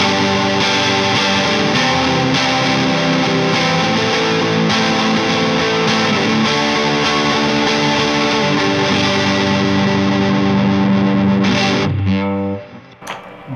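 An electric guitar played through its bridge pickup with a distortion effect gives thick, sustained, saturated chords that ring steadily and loudly before cutting off abruptly near the end.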